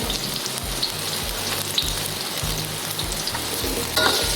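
Shiitake mushrooms frying in oil for a braised cabbage dish, giving a dense, close crackling sizzle with a few stirring knocks, steady and loud with no voices.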